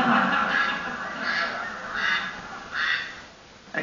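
Synthesized duck quacks from the Nintendo game Duck Hunt, four evenly spaced nasal calls over a buzzy electronic tone, loud and close.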